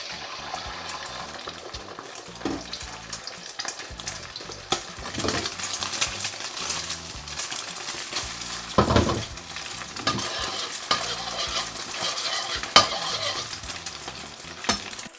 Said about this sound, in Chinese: 油热后下入打散的鸡蛋，